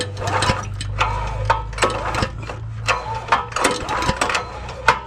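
A pressure washer pump runs steadily up close, drawing pink antifreeze coolant through a hose during winterizing, with a constant low hum under rapid, irregular mechanical clicks and knocks.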